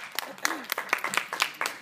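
Audience applause closing a high school debate, sparse and moderately near claps in an uneven rhythm, with voices talking over them.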